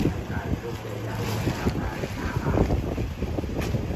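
Strong wind buffets the microphone aboard a boat, giving a continuous rushing, gusty roar with faint voices underneath.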